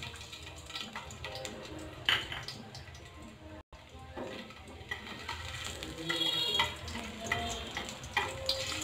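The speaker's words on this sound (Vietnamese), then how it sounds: "Giờ mình sẽ cho tỏi vào nha các bạn." Garlic frying in a pan for braised climbing perch with pickled mustard greens in coconut water, a steady close sizzle with scraping stirs and a brief gap midway, no talk.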